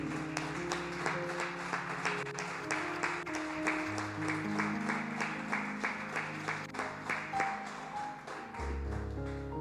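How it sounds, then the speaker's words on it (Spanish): A church congregation applauds, a dense, sustained patter of many hands clapping at moderate distance under steady sustained organ or keyboard tones. "Denle un aplauso al Señor, mi hermano."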